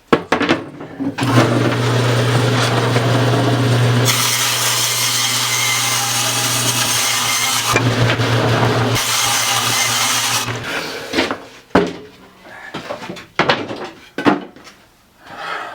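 A power saw cuts through plywood in a home garage, two long loud passes of steady motor hum with a gritty blade-through-wood rasp, separated by a brief pause, followed by clatter of boards being handled.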